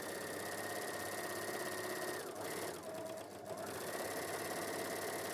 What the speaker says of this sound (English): So you're actually overlocking the elastic to the fabric